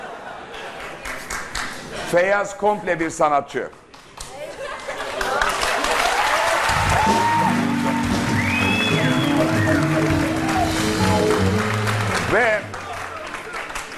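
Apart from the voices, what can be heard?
studio audience applause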